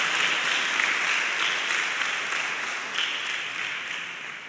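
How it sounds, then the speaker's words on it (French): A crowd applauds the parents at a prize ceremony for laureates in Benin, a sustained, even wash of clapping heard alone that tapers slightly at the close. "On va applaudir les parents aussi."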